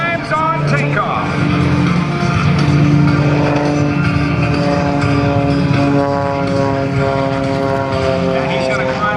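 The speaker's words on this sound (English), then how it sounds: "Watch the nose come up, snap rolls it twice and 3 times and 4 times on takeoff." Extra 300 aerobatic propeller plane roars loudly on takeoff, its engine note wavering and surging as it snap-rolls repeatedly close to the ground, with an announcer talking over it at an airshow.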